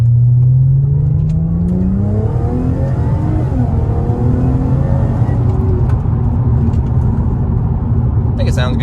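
A Chevrolet Corvette C7 with a modified C7.5 airbox revs up loud and close, its engine tone rising and then settling into a throaty, rumbling idle, with a voice talking over it.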